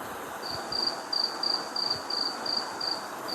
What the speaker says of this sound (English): let's go to the forest and have a waterfall and maybe some crickets